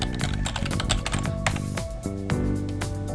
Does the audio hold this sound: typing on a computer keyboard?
yes